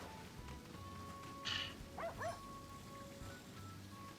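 In the video game Sakuna of Rice and Ruin, a dog gives a couple of short, quick barks near the middle. The barks are fairly quiet and sit over a continuous hissy, rain-like ambience.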